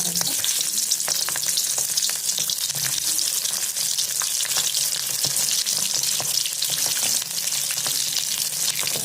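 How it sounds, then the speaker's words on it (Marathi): Stuffed capsicum peppers fry in hot oil over a medium gas flame, giving a loud, steady sizzle with dense crackles and pops that continue without a break and without any voices. "छान असं तेल गरम झालं त्याच्यामध्ये आपण ही मिरची सोडून घ्यायची जेवढी तेलात बसेल तेवढी मिरची सोडून घ्यायची"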